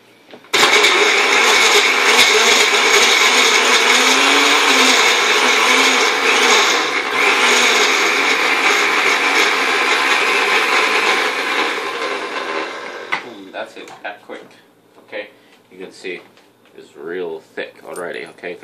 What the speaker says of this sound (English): put it in a blender.